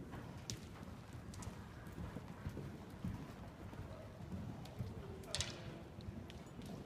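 A horse canters in an arena, its rhythmic hoofbeats soft and steady against broad low background noise, with a few brief sharper knocks.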